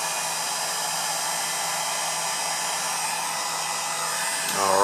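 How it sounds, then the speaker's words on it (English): A heat gun runs on its low setting, aimed at a laptop chip during repair, giving a steady, close, even airflow roar that holds unchanged and swells slightly louder at the very end. "But a heat gun will do. Got mine turned on low."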